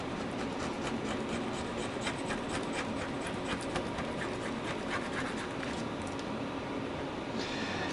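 Scraping inside a MacBook Pro 13-inch Retina during a keyboard replacement gives a close, dry scratching and rubbing over a steady hiss, in short repeated strokes.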